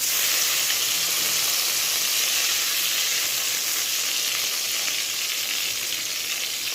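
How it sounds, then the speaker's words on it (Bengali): Eggplant slices fry in a small amount of oil with a steady, dense sizzle that stays close and loud throughout, with no voices. "অল্প তেলেই বেগুনটা ভালো করে ভাজা হয়ে যায়।"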